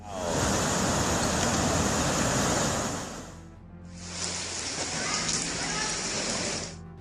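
Heavy prolonged rain pours down in a dense, loud hiss, easing briefly partway through before surging back just as strong; no voices are heard.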